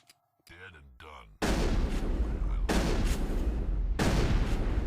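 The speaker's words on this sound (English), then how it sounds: "these shotguns can take out power junctions" Shotgun blasts in the Mass Effect video game: three loud, dense broadband bursts arrive at roughly one-and-a-half-second intervals, each sustained with a rumbling tail, after a brief buzzy electronic lead-in.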